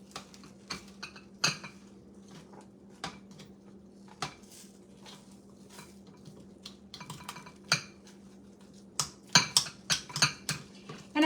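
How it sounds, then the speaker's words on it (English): Creamy garlic chicken orzo bake being stirred in a dish: scattered clinks and scrapes of a utensil against the dish, sparse at first and then quickening into a flurry near the end, over a low steady hum. "We're gonna stir this up."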